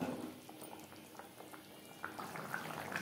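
Tilapia fish simmering in a Bengali-style curry gravy bubbles softly and steadily, with small pops and gurgles rising from the pot, close and fairly quiet, with no voices.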